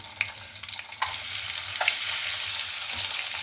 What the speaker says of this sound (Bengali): এখন ডিমগুলো দিয়ে দিচ্ছি